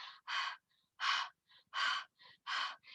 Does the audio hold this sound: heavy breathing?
yes